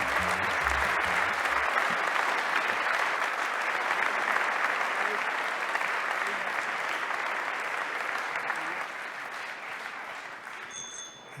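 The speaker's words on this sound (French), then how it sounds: "Je vous demande d'applaudir à tout rompre Saint-Lunaire" Sustained, enthusiastic audience applause at a cycling-friendly cities awards ceremony, a thick even roar of many hands clapping that holds for most of the stretch and fades slightly toward the end.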